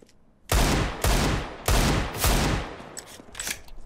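Gunfire in CS:GO: several loud, dense bursts of shots in quick succession, then sparser, fainter shots trailing off near the end, with no talking.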